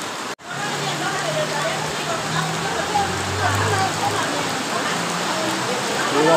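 Floodwater rushes heavily through a flooded district of Halmahera Barat, a dense, continuous close wash of water noise that stays loud throughout after a brief dropout at the start.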